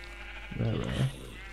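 A black sheep in Minecraft gives a short bleat close by, about a second long, over a steady low background hum.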